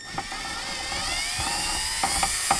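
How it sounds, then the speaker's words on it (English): A small Milwaukee cordless drill whirs in short, steady bursts at close range during a 2001 Toyota Avalon alternator replacement, with brief pauses and light clicks between runs. "I'm going to use this little Milwaukee drill on here, this little cordless"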